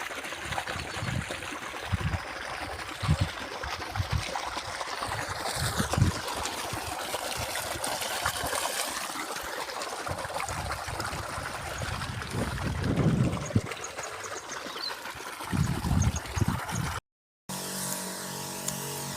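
On a farm, a second irrigation pump motor pours out water in a steady rushing stream, close by and continuous, with intermittent low thumps and splashes and a brief dropout near the end.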